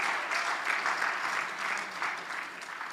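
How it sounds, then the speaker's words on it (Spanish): Congregation applauding in a church service, a steady, dense wash of clapping holding evenly for about three seconds with no voices on top. "¿Le podemos dar un aplauso al Señor?"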